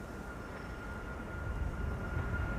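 A WestJet airplane at Schiphol airport gives off a steady, distant engine roar that swells slightly toward the end, alone without voices.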